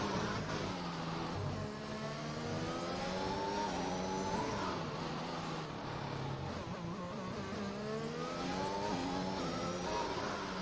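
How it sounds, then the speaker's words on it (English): Race car engine revving in the F1 2021 video game at Singapore, rising and falling through repeated gear changes in a steady, moderately quiet drone. "I just wish the game didn't do that revving sound."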